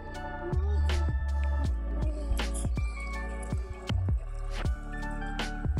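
Water poured from a small container onto kitchen garden plants, with a run of close, wet drips and soft squishy splashes landing in uneven bursts; no voices.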